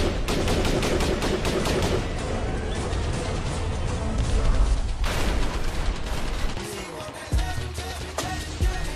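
Dense sustained gunfire in the zombie shooter Left 4 Dead, rapid overlapping shots and bursts rattling loudly without a break, with a deeper crash near the end.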